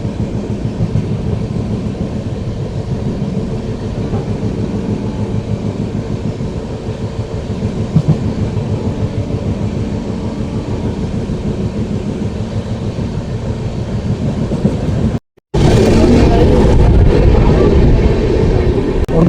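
Train 22479 runs at good speed near Rohtak with a loud, steady rumble and rattle throughout, cut by a brief dropout before it resumes even louder.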